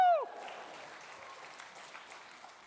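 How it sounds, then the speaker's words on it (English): Audience applause at a space-industry product event, clapping for Axel Space: a short whoop starts it, followed by soft, steady scattered clapping from a crowd that continues to the end. "please clap Axel Space"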